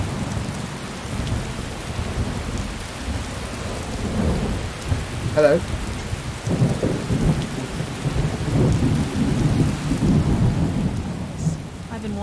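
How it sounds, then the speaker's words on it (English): Thunder rolls and rumbles over steady falling rain in the Skyrim video game, a continuous stormy wash with heavier booming swells throughout, and a brief spoken word in the mix. "If you're bored of the thunder and lightning, let me know and I'll turn it off."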